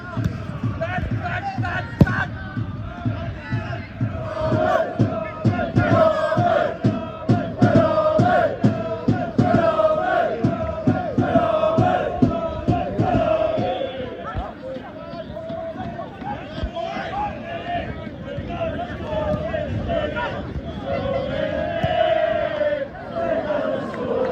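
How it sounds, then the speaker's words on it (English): A large crowd of football fans chants and shouts rhythmically in the stands at a Ramsgate match, with claps and stamps punctuating the loud, continuous roar. "Quite a noisy bunch, Ramsgate fans."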